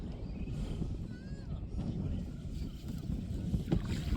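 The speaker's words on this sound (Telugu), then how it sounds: "స్లోగా నిదానంగా వెళ్తున్నాం, నో పెట్రోలు, న్యాచురల్ పడవ అండి ఇది." A rowboat gliding slowly over a large lake in the evening without any engine, with low rumbling water and wind noise against the microphone, steady and near, and no clear strokes standing out.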